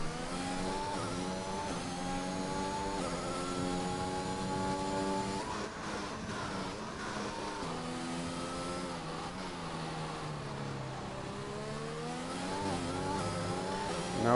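Race car engine howling down the home straight in a racing game on a French circuit, a steady high-revving whine that climbs through gears with brief shift dips, loud and close throughout with no voices.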